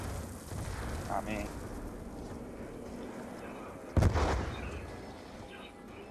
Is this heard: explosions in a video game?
yes